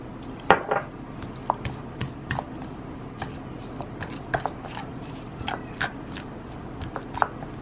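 Garlic dill butter being mashed in a bowl, the utensil scraping and tapping against it in a run of irregular clinks and clatters, close and fairly quiet, with no talking.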